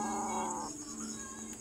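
A cat meows loudly and close by in one drawn-out call that fades into a quieter tail, with no talking.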